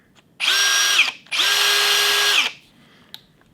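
A Metabo/Hitachi cordless power drill whirs at close range in two bursts, a shorter spin and then a longer one, each winding up and winding down, with quiet in between and afterward.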